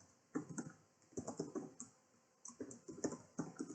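Someone types on a computer keyboard in quick bursts of soft, close clicks with short pauses between them, and no talking.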